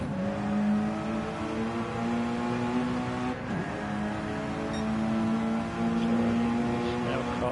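Steady, loud engine drone from a front-wheel-drive Mazda 3 race car in a racing video game at Mount Panorama, briefly dipping around halfway before the tone rises and holds through the rest.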